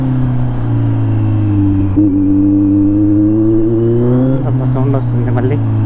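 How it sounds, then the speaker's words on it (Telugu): A motorcycle fitted with an Arrow exhaust idles and revs close by, a loud steady droning engine note that rises in pitch toward the end. "సౌండ్ వస్తుంది మళ్ళీ బండి నుంచి"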